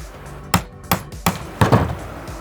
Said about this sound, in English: all we're gonna do is take this gasket punch right here